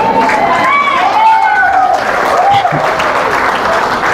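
A church congregation at a general assembly claps steadily, a dense run of applause mixed with shouting voices and a speaker's voice carrying over the crowd.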